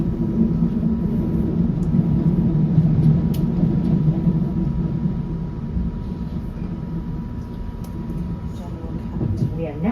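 Class 166 diesel passenger train underway, a steady low rumble and rolling clatter heard from inside the carriage, with talking over it.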